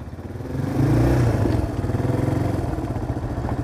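A motorcycle engine idles and rumbles close by outdoors in the rain, a low, steady chugging that swells slightly as it revs, then settles into an even pulse.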